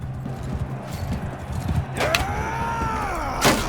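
Hooves clatter in a steady clip-clop from a riderless horse in the video game Mount & Blade II: Bannerlord, with a rising-and-falling whinny midway and a sharp knock near the end, over a low game din.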